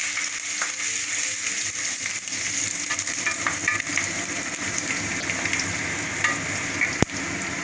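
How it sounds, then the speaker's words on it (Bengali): Grated garlic frying in oil, a steady, dense sizzle that runs unbroken from start to finish with a few small crackles on top and no talking. "এরপর আমি গ্রেটেড রসুন দিচ্ছি। রসুনটা আমি একটু হালকা ভেজে নেব।"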